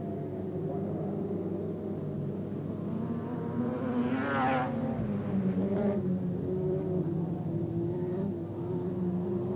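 Compact speedcars race on the dirt oval at Liverpool City Speedway in 1985-86, a steady engine drone with a car's revving note swelling and passing midway, heard at a moderate distance.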